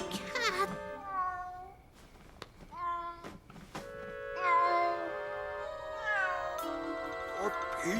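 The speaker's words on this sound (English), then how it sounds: "Darn cat." A cartoon cat meows over and over, with drawn-out, wavering, whiny cries that rise and fall close up, broken by brief thumps.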